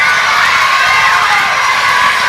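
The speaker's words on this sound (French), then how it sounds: "Vous pouvez les applaudir aussi très fort." A theatre audience applauds and cheers loudly for the actors of a stage play, with whoops and shouting layered over sustained clapping throughout.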